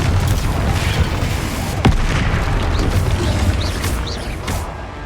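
A Confringo fire spell bursting in the game Hogwarts Legacy, a loud, dense booming roar with a sharp crack partway through, followed by fizzing, crackling debris that slowly thins out.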